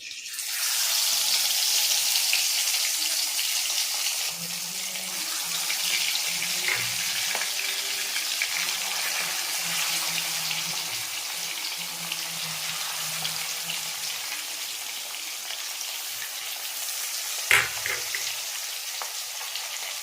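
Mackerel frying in oil, a steady, moderately loud hiss and crackle with a faint low rumble through the middle and one sharp knock near the end, no voices.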